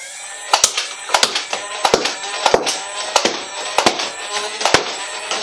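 Nerf Strife foam dart blaster firing a rapid series of sharp snapping shots, roughly a dozen in quick irregular bursts, each a crisp close crack with a short mechanical whir between.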